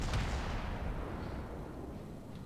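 Naval turret guns on the Soviet cruiser Bogatyr fire in a video game, a dense heavy rumble with a sharp boom at the start that fades into a sustained low roar.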